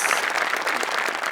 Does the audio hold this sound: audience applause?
yes